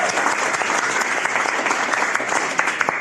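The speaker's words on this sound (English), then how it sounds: "Thank you for applause" Steady applause from a stand-up comedy audience, dense and even clapping that carries through the whole stretch at a strong level with no voices over it.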